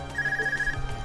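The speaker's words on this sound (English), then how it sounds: "Is that your Arcus ringing? What's it doing ringing out here?" Arcus communicator in the Trails of Cold Steel video game rings once, a short, steady electronic trill standing clear over faint background game music.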